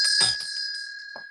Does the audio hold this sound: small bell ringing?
yes